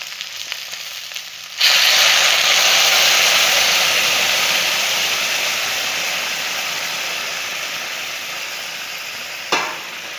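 Water hits a hot pan of Assamese mutton curry with a sudden loud hiss, followed by a steady, slowly fading sizzle and bubbling, then a brief clatter near the end.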